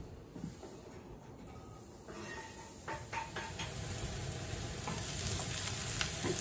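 A whole medium onion cooking in a frying pan for sopa paraguaya, a soft steady sizzle that grows slightly louder, with a few light stirring scrapes partway through.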